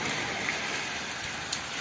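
Steady hiss of pre-monsoon rain falling, an even wash of noise with a few faint drips and no voices.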